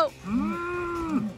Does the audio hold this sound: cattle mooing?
yes